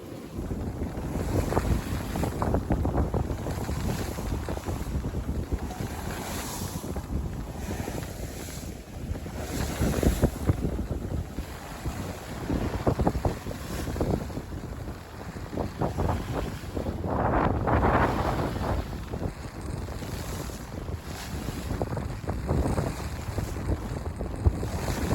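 A cruising sailboat under triple-reefed main, staysail and full jib beats upwind at about five knots through rough seas between Tonga and Fiji, with loud gusting wind buffeting and waves crashing and hissing along the hull throughout, no talking.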